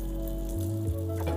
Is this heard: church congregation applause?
no